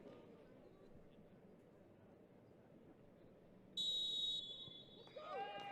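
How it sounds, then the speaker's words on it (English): A referee's whistle gets a women's Champions League qualifier under way between Arsenal and PSV. One sharp shrill blast, about half a second long, cuts over steady distant stadium crowd murmur, with a shorter chirp following shortly after. "With her second whistle, we'll be getting underway."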